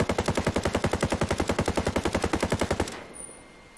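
A rapid, steady string of about thirty close, loud shots from an AR-18 rifle in Ghost Recon Breakpoint cuts off abruptly, leaving a quiet tail.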